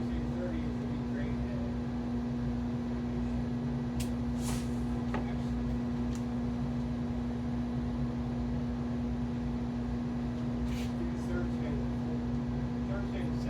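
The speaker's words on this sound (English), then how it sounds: "So we're going to run the air conditioner pretty tough today." An air conditioner runs hard on a humid day, giving a steady, unbroken hum and broadband drone with a few faint clicks on top.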